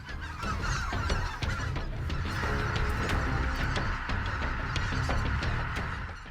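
A flock of mallard ducks feeds in the open, giving a constant jumble of nasal quacks and honks. The calls overlap densely and stay at a steady, moderate level throughout.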